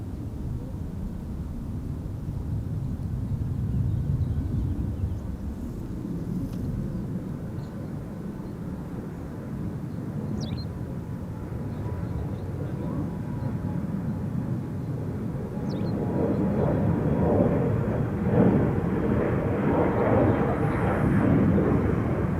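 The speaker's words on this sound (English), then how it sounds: "Embraer 175 to Poznan in Poland. Embraer 175, which is going to appear over there." An Embraer 175 airliner departs a long runway, a broad roaring jet rumble that swells louder toward the end, heard from a distance outdoors with a voice talking over it.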